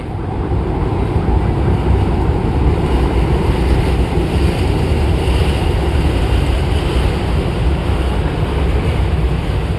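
A light rail (LRT) train rumbles past nearby at the Pasig River esplanade, a loud continuous roar of wheels and motion filling the whole stretch, with no talking.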